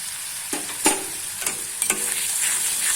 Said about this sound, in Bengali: খুব ভালো করে নেড়ে নেব।